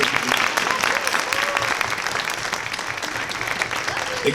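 An awards banquet audience claps steadily, a dense sustained round of applause filling the room throughout with no other sounds standing out.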